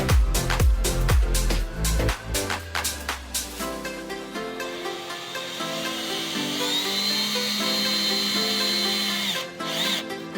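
A power drill whirs in several short bursts, driving self-tapping screws through plastic to fix a turn signal light and gasket on a Polaris Ranger, followed by a steadier high mechanical whine.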